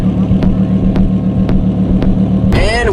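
A 1,000 hp twin-turbo Audi R8 idles in a steady, close, loud rumble with periodic pulses, and a sharp burst of revving rises at the very end.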